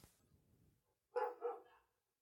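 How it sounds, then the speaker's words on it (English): A single dog gives two quick barks in a row, clear and fairly close, following a brief quiet stretch with no talking over them. "That's a dog barking."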